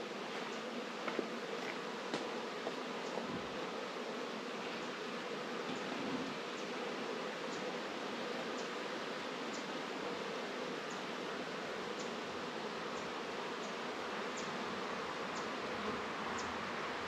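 Honeybees from a hive being split hum steadily and close, a dense continuous buzz of many insects with occasional brief ticks, no voices.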